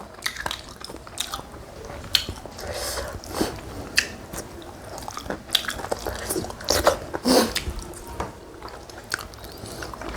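Close-up gnawing and chewing of chicken rib pieces from a glass noodle soup, with wet biting, squishing and occasional crunchy snaps in an irregular rhythm.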